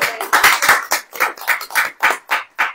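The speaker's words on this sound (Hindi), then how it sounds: "ताली हो जाए।" Audience applause breaks out at a Christian preaching service, rising in about eight distinct rhythmic bursts of group clapping, loud and close, with no talking over it.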